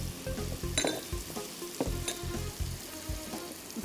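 Chicken with diced carrots and boiled peas frying in a pan, a steady sizzle broken by rhythmic scraping and stirring thuds, close and moderately loud, no voices.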